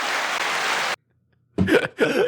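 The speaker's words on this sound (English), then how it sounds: "I meant to do the applause." Canned applause sound effect played during a casual chat, a burst of dense clapping for about a second that cuts off abruptly, followed by silence and then people talking.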